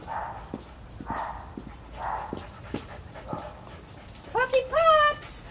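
Lab-shepherd mix puppies at a dog rescue give a burst of high, wavering whimpers and yelps near the end, after several seconds of people talking over faint background noise.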